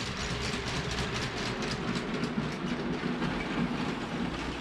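A Lego toy train runs at speed step four into a tunnel, giving a continuous, fairly close rumbling clatter of wheels on track with no pauses.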